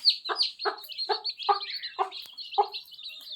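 A hen clucks repeatedly while feeding, giving six or seven short, evenly spaced clucks close by over a thin, continuous high chirping of chicks.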